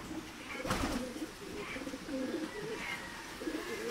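Pigeons coo softly in the hen section of a loft, low murmuring coos overlapping at a distance, with faint bird chatter and a brief rustle in the background.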